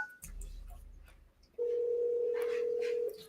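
A telephone dial tone sounds while a call is placed: a brief rustle and click first, then a steady, unbroken tone holds for about a second and a half before cutting off.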